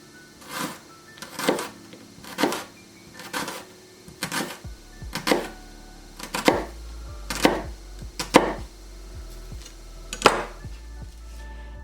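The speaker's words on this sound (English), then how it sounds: "Cut like this, super thin." A knife slicing puff pastry super thin on a board, about a dozen crisp, evenly spaced chops landing roughly once a second, close and clear with no talking.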